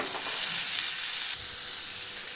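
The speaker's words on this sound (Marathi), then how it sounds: "घेऊयात टाकून आता चणे।" Chickpeas hit a hot pan for chana masala with a loud, steady sizzle and frying hiss that dips slightly partway through, with faint stirring beneath and no talking.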